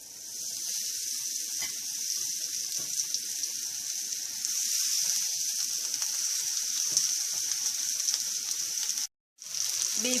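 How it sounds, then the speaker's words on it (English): Fish pieces shallow frying in a few spoons of oil in an open pan for a south Indian fish fry, giving a steady close sizzle with crackling pops throughout and a brief cut near the end, with no talking. "We fried it for 10 minutes till it reaches golden brown."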